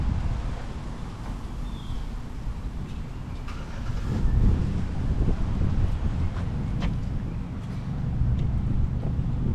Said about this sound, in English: I apologize if it is windy, because it is very windy today